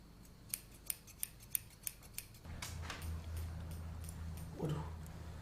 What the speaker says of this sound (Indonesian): gunting